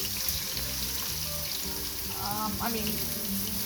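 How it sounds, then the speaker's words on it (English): Onions and potatoes sauté in oil for a potato tortilla, a steady close sizzle throughout with a low background hum and a brief higher tone midway. "we're going to saute the onions right here"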